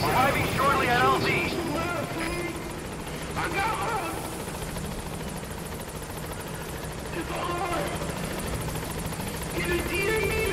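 Video game helicopter arriving at a landing zone, a steady rotor drone running throughout beneath intermittent radio chatter and voices.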